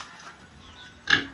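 Farm pigs grunt after feeding, a quiet stretch followed by one short, louder grunt near the end.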